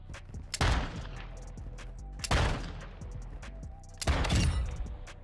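The Basilisk revolver from Call of Duty MW2 DMZ fires three heavy, booming shots about two seconds apart, each ringing out with a long tail, while small clicks and movement sounds continue between them.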